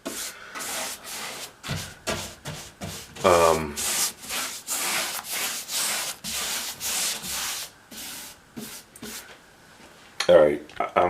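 Sanding of drywall mud on a basement bathroom wall, a steady run of close, rhythmic scraping strokes, with a person speaking over parts of it.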